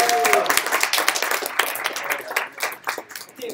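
Students and guests at a Google CSSI final project presentation clap together, the applause loud at first and then thinning into scattered, uneven claps; a brief tone rings out near the start.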